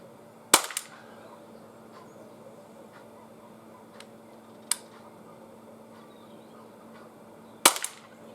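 An Umarex Glock 17 pellet pistol fires a few sharp, close shots separated by pauses of several seconds, with faint ticks and a low steady hum between them.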